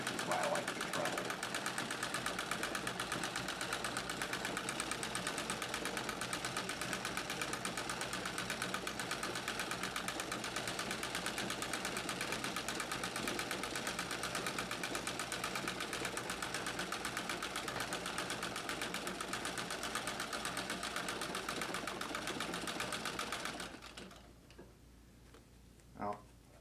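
A White Rotary treadle sewing machine doing free-motion quilting runs in a steady, dense rapid stitching rhythm that fills most of the stretch, then stops abruptly near the end, leaving a quiet room with a faint knock or two.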